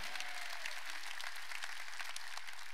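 A church congregation claps together during a worship service, a continuous, even wash of many hands heard at a moderate distance with no voices over it.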